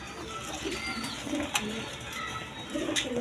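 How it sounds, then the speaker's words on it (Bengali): A pair of high-flying Giribaj pigeons coo softly in repeated low murmuring phrases, close by and steady, with faint background hiss and a couple of sharp clicks. "দর্শক এইখানে এক পেয়ার হাই ফ্লাইং গিরিবাজ কবুতর দেখেন"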